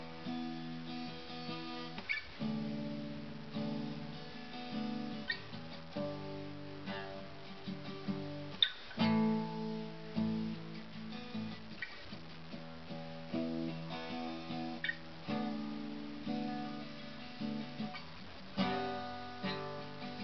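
An electric guitar plays a repeated rhythmic riff from a song: choppy strummed chords in short phrases with brief gaps, played alone at moderate volume.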